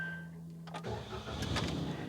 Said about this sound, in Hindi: मैं गाड़ी का आपको स्टार्ट करता हूँ